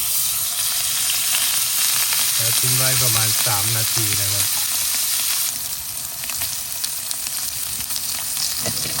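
A rib eye steak fries in an iron pan, giving off a loud, steady, close sizzle with a constant hiss that runs throughout, while someone speaks briefly over it.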